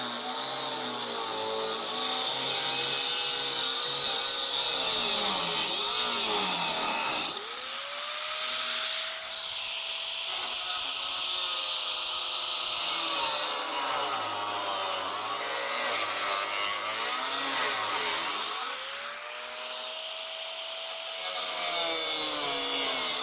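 A power saw cuts a piece out of a 3rd-gen Toyota Tacoma rear bumper. It makes a loud, continuous, whining cut that dips and rises in pitch as the load changes, running steadily without any talk.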